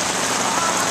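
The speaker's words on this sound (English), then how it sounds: "It's raining though." Rain falls steadily onto the surface of Martinez Lake in a close, dense hiss of countless drops, loud and unbroken with no voices.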